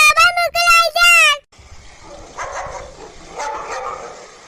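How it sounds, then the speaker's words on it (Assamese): A dog barks in a loud, close burst of several rapid barks, then the scene drops into quieter, indistinct noise. "দেখিছে নাই কেনেকে ভুকি ভুকি আহিছে?"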